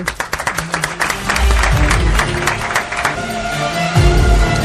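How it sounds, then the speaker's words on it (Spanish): A studio audience on a Spanish radio programme breaks into applause, starting with a few distinct claps and swelling into sustained, loud clapping from the crowd, with some voices mixed in. "Muchas veces nos dan ellos el aplauso a nosotros y esta noche se lo quería dar a ellos."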